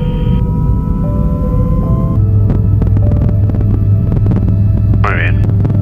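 A helicopter on a test flight accelerates, giving a steady low rotor throb and engine hum that swells and deepens about two seconds in, with a brief rising whine near the end.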